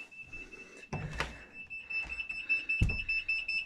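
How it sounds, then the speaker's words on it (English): A building fire alarm rings during a weekly test: a steady, piercing electronic tone runs throughout, with a few sharp knocks and clicks from the control panel. "we're now going to silence the fire alarm panel."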